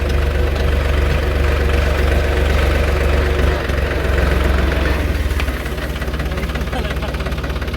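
A farm tractor engine runs steadily, a loud low rumbling drone with a rapid knocking pulse that eases slightly toward the end; no talk is heard over it.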